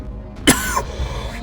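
A game commentator coughs and clears his throat, one sharp close cough followed by a short rasping throat-clear, loud against quiet background.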